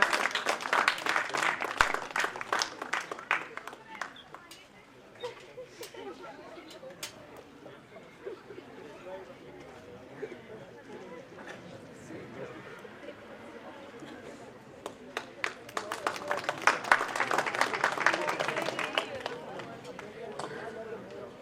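At an award ceremony, a crowd claps to welcome a guest with bursts of applause at the beginning and again near the end, with murmuring voices and a speaker heard in between.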